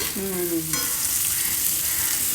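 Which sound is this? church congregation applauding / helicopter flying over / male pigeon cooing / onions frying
onions frying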